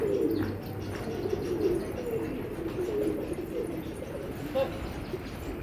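Desi pigeons coo repeatedly inside a loft, low throaty calls layered over one another with occasional chirps, heard at close range against a busy background.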